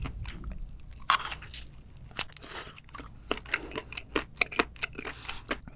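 Close-up chewing of soft octopus tentacle during a Korean seafood mukbang, with wet squishy bites and sharp crunchy clicks in an irregular rhythm, quiet and intimate with no talking.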